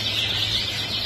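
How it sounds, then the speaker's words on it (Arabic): Red black canary singing indoors among other ornamental birds, a steady high-pitched warbling trill that carries through the whole short stretch over a constant low electrical hum. "هنا الكناري بلاك ريد أو ريد بلاك بسهولة"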